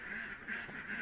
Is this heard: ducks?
yes